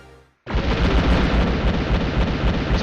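An explosion in the video game Wild Arms, a sudden, loud, sustained roaring blast of dense noise that holds steady for a few seconds after a short quieter lead-in, with no talking.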